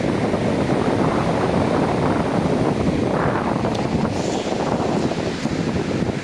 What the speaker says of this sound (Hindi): ये जो लहरें हैं ना